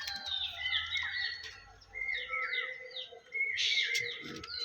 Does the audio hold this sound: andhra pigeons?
yes